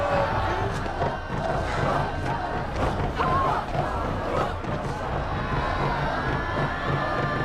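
A crowd roars and shouts continuously at arriving captives in the film Apocalypto, a dense, unbroken wall of cheering and yelling voices with whoops rising out of it, steady and loud throughout.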